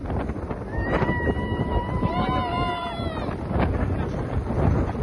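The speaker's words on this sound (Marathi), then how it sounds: "खूप वारा आहे." Strong gusting wind buffets the microphone throughout on a hilltop at Manikgad fort, with a faint whistling tone drifting over the rumble.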